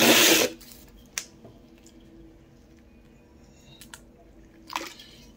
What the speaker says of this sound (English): I just water them in.